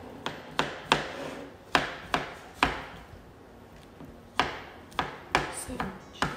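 Knife chopping food on a chopping board in a boarding school kitchen: a series of sharp, close knocks in irregular bursts, a few quick strikes, a pause, then more chops, with no talk.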